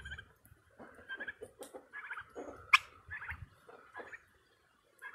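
Young pet turkeys make a run of soft, close gobbling and chirping calls in short bursts, with brief pauses between them and no other sound around.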